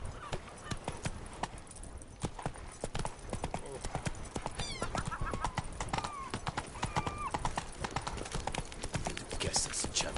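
Roach the horse gallops in The Witcher 3, a continuous rapid clatter of hoofbeats with a whinny partway through, set against game ambience.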